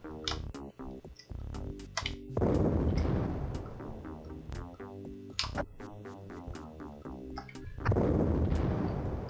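Retro shooter Blake Stone: Planet Strike, with plasma explosions and gunfire as harsh, crunchy bursts and repeated sharp shots over a pulsing synthesized soundtrack, moderately loud and densely layered.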